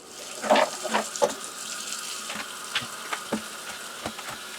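Tap water runs into a container in a kitchen sink to thaw moose meat, splashing and trickling with irregular bursts of dripping and gurgling, close and fairly quiet with no talking.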